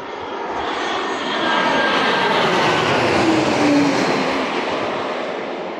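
A loud, steady roar of an airplane engine passing overhead, swelling in the middle and slowly fading, with no voices.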